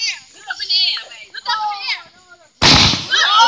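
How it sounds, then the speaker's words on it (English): Fourth of July fireworks exploding nearby: one sharp, loud burst following a stretch of excited children's and adults' voices, with noisy crackling that fades after the blast. "y'all ready for the fireworks"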